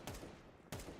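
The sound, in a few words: SMG gunfire in the video game Counter-Strike 2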